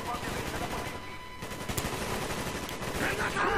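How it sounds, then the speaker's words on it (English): Gunfire in the Call of Duty Black Ops video game, dense overlapping shots and bursts in close combat with a prominent loud blast, mixed under shouting voices and game noise throughout. "Shotgun!"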